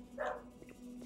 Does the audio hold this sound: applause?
no